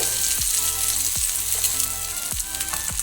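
Masala-coated fish fries on a hot stone tawa over medium flame, giving a dense, steady sizzle up close, with a few periodic low swooshing thuds.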